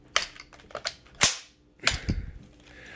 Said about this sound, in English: we let the bolt go so it bypasses those rounds